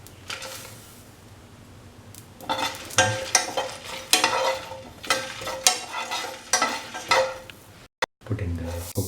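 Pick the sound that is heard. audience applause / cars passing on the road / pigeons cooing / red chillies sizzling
red chillies sizzling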